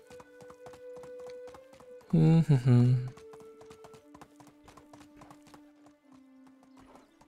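Horse hooves clip-clopping in a steady, rhythmic patter in the video game Medieval Dynasty, with a sustained in-game tone underneath and a brief burst of a person's voice over the hoofbeats.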